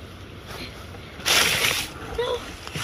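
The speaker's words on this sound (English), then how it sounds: "that wind serious. He kicked up out of nowhere." Strong wind gusts at a bayou campsite, a loud broadband rush that swells for about half a second and then eases back into steady background noise.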